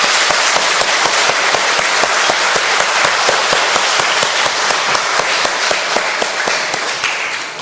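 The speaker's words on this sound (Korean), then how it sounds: "우리 지휘자님 더 잘하시라고 여러분 격려의 박수 한번 부탁드릴까요?" A church congregation bursts into sustained applause for the choir conductor during a Sunday service, dense clapping filling the room steadily for several seconds without speech.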